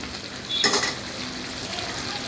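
Crab gravy with crushed pepper and cumin bubbles and sizzles in a pan. One quick stirring scrape rises briefly over a steady, close frying hiss.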